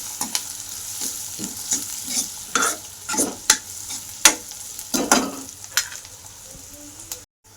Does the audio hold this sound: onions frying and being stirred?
yes